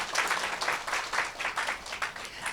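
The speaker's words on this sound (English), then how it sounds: "Can we get a round of applause for our leaders?" An audience applauds its leaders, many hands clapping in a steady, slightly pulsing rhythm that stays fairly loud throughout the short burst.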